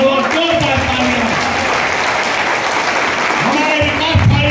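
A crowd at a political rally breaks into loud, sustained applause, dense clapping running throughout, with a voice speaking over it at a few points.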